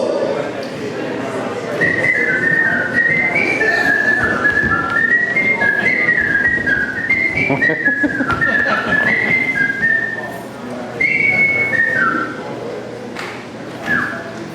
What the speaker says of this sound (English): I am going to perform for you conga while I whistle